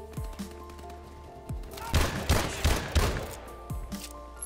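Pistol fire from Call of Duty Advanced Warfare: a handful of quick, sharp shots spaced about a third of a second apart, over a low, steady game background.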